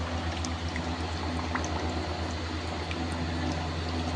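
Spring water gushes steadily out through rock, making a continuous, even rushing wash with a low hum beneath it and no voices.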